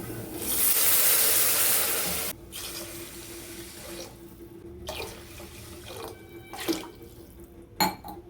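Water pouring from a tap into a cooking pot, a loud steady gush for about two seconds that stops, followed by faint clinks and handling noises in a quiet kitchen.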